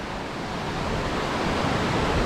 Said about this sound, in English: Fabulous sight up there, the waterfall.